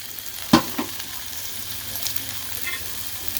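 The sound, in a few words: pork frying in oil in a pan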